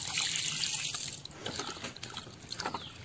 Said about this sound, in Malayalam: അരിഞ്ഞ മാങ്ങ നമുക്കൊന്ന് കഴുകി എടുക്കണം